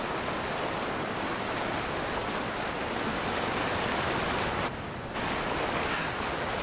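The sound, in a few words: waterfall in the video game Avowed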